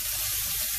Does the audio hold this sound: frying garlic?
yes